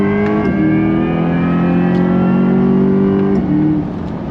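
A 2024 Corvette C8 E-Ray pulls hard in second gear from low revs, its engine note droning steadily and rising slightly in pitch before easing off near the end, heard from inside the car.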